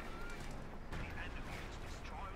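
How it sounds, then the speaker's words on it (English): A 75 mm cannon hits a Sherman tank in Company of Heroes 2: one sharp, loud blast about a second in, set in constant dense battle noise with someone talking over it throughout. "Gets a good hit there with 75 mm cannon on the Sherman"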